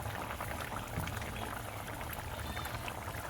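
Thin rohu fish curry broth with potatoes bubbles steadily in a pot, a dense, even simmering hiss with soft popping bubbles close by, no voices.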